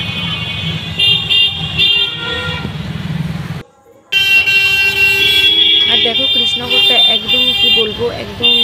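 Riding in a toto e-rickshaw along a busy road, with loud, constant traffic noise, repeated horn toots and a brief lull midway, while voices talk over the din.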